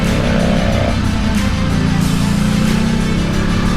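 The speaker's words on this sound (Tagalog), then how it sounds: "May kotse." A car overtakes on a twisting mountain road in the Philippines, its engine note rising and passing close and loud over steady motorcycle riding noise, with no talk.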